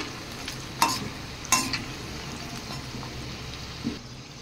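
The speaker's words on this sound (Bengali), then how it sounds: "আরও একবার আমি দ্বিতীয়বার ভেজে নিচ্ছি।" Steady sizzle of semolina and potato snacks deep-frying a second time in hot oil, with a couple of sharp clinks from a utensil against the pan.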